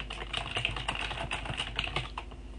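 Quick, irregular clacking of keys as a comment is typed on a computer keyboard, close and clear, with no voices.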